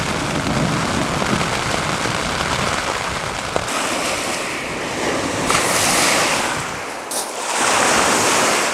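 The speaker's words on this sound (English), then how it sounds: "The waves are just a little too big out there this morning for us." Waves break on a lake shore in a continuous roar of surf, loud and close, swelling and easing with a few surges of white noise, mixed with wind.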